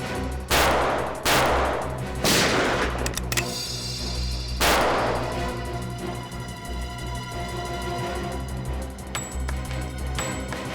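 Gunshots fired during a tense scene in the CID television crime drama, several loud sharp bursts in the first seconds followed by a lingering ringing tail under a dramatic music bed.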